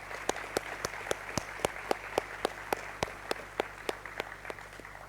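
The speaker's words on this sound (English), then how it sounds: "Let's give a round of applause to all of our donors and friends with us here today." Audience applause at a university scholarship breakfast honoring donors, steady clapping from a roomful of people with sharp individual claps standing out in a regular rhythm throughout.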